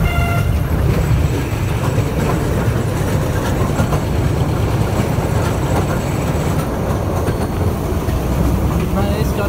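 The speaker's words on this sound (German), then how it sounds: "Man ist gerade ziemlich schnell weggefahren und hat den Motor durchaus hoch drehen lassen." Liliputbahn D3 diesel locomotive on a miniature railway pulling away with its engine revving high, a loud, steady rumbling drone with rail clatter, heard close by with some talk.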